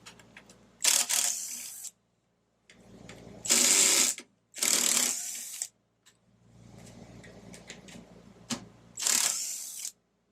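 A ratchet wrench loosens 8mm airbox bolts on a Briggs & Stratton 6.75 Quantum small engine, several bursts of rapid close clicking separated by pauses and quieter handling noise.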